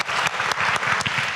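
A seated audience at a business awards ceremony claps for a sponsor in a short, dense burst of applause, close and fairly loud.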